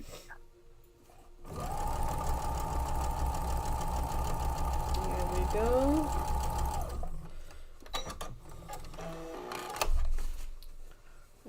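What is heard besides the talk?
sewing machine stitching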